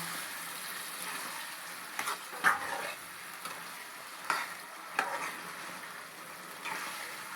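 Chicken frying in a pan while being stirred, a steady soft sizzle with a few louder scraping stir strokes scattered through, close and without talk.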